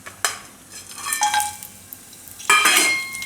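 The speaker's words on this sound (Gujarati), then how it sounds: "તો એમાં આપણે પહેલાં આખા મસાલા નાખશું બધા" Whole spices drop into hot oil in a pan while cooking gajar matar pulao, with sharp metal clinks of a spoon against the pan, stirring scrapes and a bright sizzle flaring up close.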